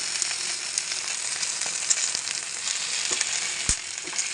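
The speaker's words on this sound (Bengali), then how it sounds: "গরম গরম সিজলার একদম ধুয়ে উঠছে" A hot homemade sizzler platter sizzles loudly and steadily, a dense crackling hiss broken by occasional sharp pops.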